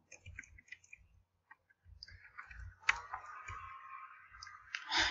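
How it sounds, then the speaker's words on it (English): Computer keyboard keys are struck hard while playing Tasty Planet, making sharp, irregular clicks and clatters at close range, some in quick bursts and others spaced apart. "You may hear me tapping my keys really hard."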